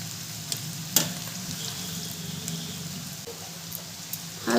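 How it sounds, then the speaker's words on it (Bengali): Soaked flattened rice being gently stirred in a pan over a low flame, a soft steady sizzle with a few light scrapes and taps of the spoon, fairly quiet throughout. "হালকা হাতে একটু নাড়বো, ভালো করে মিশিয়ে নেব চিড়ের সাথে।"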